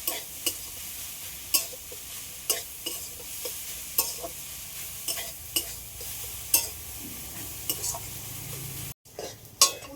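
Potato filling with pointed gourd seeds frying in a pan: a steady sizzle throughout, broken by regular scrapes and clinks of a utensil stirring against the pan, close and fairly loud.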